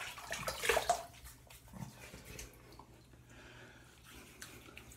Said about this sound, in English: Let me wet the face and we'll get started.